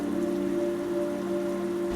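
Steady rain hissing continuously, with a constant low hum running underneath.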